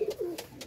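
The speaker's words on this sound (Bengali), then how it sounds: "কিছু কবুতর উপরে আছে" Pigeons perched up high on a small pigeon farm give a brief, soft cooing call, faint and close, lasting under a second.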